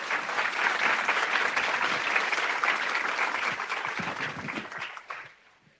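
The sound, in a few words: audience applause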